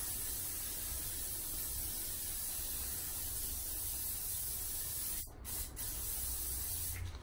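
Hairspray hisses from an aerosol can in a long continuous spray, close and steady, with a short break near the end before a final quick burst.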